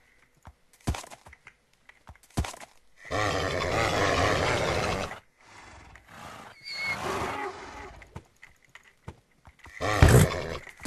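Horses from the Minecraft video game neigh and whinny in short game-sound bursts, with a long loud stretch in the middle and a sharp final whinny, amid faint clicking of keyboard typing.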